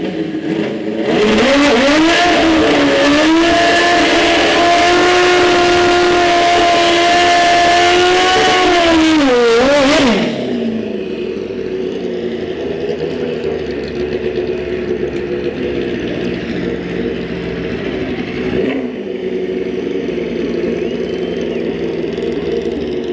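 A drag racing motorcycle at Santa Pod, a loud, sustained high-revving engine scream that rises and holds for several seconds, then cuts to a lower steady drone as it fades down the strip.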